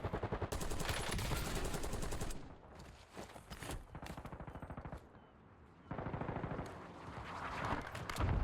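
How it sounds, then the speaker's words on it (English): Heavy gunfire and explosive blasts rattle through a video game firefight, with dense bursts that thin out mid-clip and then surge back, loud and continuous. "That's a mortar strike on those guys."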